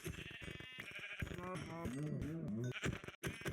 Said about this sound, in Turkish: Oh inekler koyunlar.